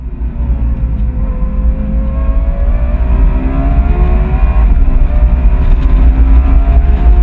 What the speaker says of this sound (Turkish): 9500 devirden bahsediyoruz V10 bir motor için.